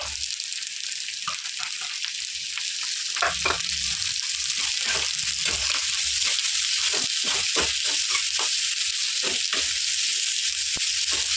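Chopped onions and coriander seeds frying in an oily pan alongside ginger for a chutney, giving a steady high sizzle with intermittent scraping and stirring clicks, close and continuous, no talk.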